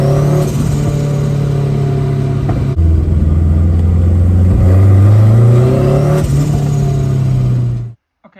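A boosted K20 engine in an MR2 accelerates on a drive, a loud sustained drone that drops briefly, then climbs in pitch as it revs up before cutting off abruptly at the end.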